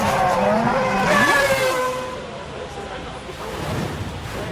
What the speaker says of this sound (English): a hefty spin wiped him out of the race